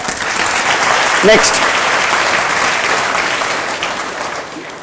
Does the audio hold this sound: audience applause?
yes